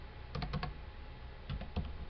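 Typing on a computer keyboard: two short bursts of several crisp, close keystrokes separated by a pause, fairly quiet, with no voice over them.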